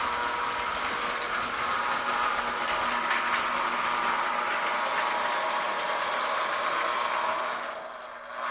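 A model train running on a layout, a steady whirring motor hum with a faint rushing hiss, continuous for several seconds and easing off at the end, without talk.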